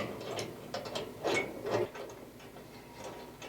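Wrenches click and ratchet faintly while tightening a small brass fitting against a stainless steel part on a ventless gas heater, giving a few short metallic clicks and scrapes over a quiet room, with no talking.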